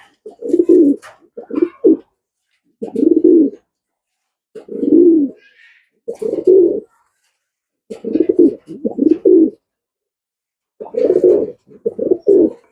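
Pigeons coo in a loft where birds are raised and flown, with about ten distinct, fairly close bursts of low, throaty, rolling coos separated by short silences.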